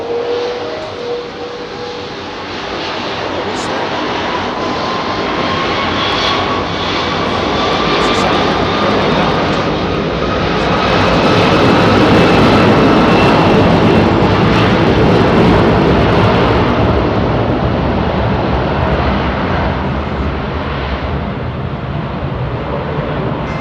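Airbus Neo airliner with extended winglets passing close over Heathrow runway 27R, a loud jet roar swelling to a peak midway and easing off, with sweeping engine whine and no talk.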